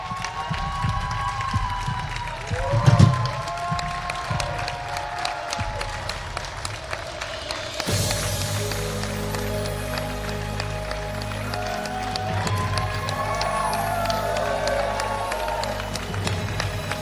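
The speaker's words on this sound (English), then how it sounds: "But just give him a big cheer." A live audience at a wrestling talk show cheers and applauds as wrestler Dustin Rhodes walks out, a loud, steady wash of clapping and shouting with a sharp burst early on, carried along with music.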